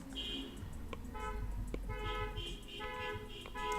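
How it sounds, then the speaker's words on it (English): Car horns honk repeatedly outside in a series of short overlapping toots over a steady low rumble of street noise, heard from indoors at moderate distance. "'Cause people are just honking."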